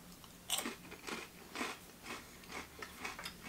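White chocolate-coated potato chips, stacked crisps like Pringles, crunched up close with a series of sharp, crisp bites and chewing bursts in a steady rhythm, no talking.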